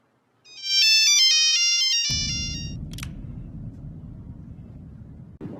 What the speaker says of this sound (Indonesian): Lalu Jason berusaha kembali menghubungi Katie yang masih belum ditemukan.